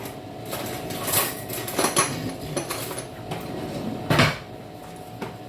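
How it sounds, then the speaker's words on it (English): A spoon stirs salt into a beef stew, clinking and scraping against the pot in a series of irregular, close-up knocks, with one sharper clatter near the end and no talking. "I'll be just stirring it in"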